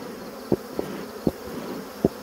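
Honey bees swarm around an open hive in a dense, steady buzz, with individual bees zipping close past at intervals in short, louder whooshes.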